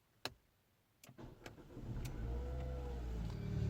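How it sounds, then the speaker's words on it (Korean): A Renault Samsung XM3 starts up: a few sharp clicks from inside the cabin, then the engine cranks and catches into a steady, moderately loud idle that settles and continues to the end, with no talking. "시동을 한번 걸어보도록 하겠습니다"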